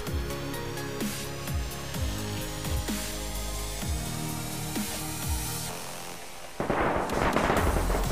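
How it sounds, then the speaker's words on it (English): In a shooter video game, .308 rifle shots crack off in a steady series about once a second, sounding somewhat distant. A louder, closer burst comes near the end. "I hear 308s cracking off"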